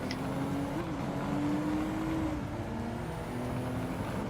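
A Toyota Supra's engine drones steadily in Gran Turismo 7, a continuous mid-pitched tone with slight pitch shifts, heard alone at moderate level.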